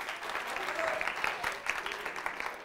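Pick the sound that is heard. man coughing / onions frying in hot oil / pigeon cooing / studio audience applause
studio audience applause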